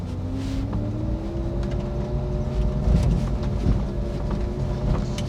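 A Ferrari 458 Italia pulling away in first gear, its engine note rising steadily as it accelerates, heard from inside the car over rushing wind and road noise.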